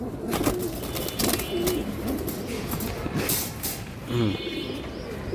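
Giribaz pigeons at a market stall coo in repeated soft throaty bursts, close by, amid a busy background of rustling and scattered clatter.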